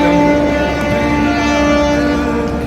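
A train pulls away from a station platform, giving a loud, steady rumbling drone with sustained tonal hum throughout and no voices.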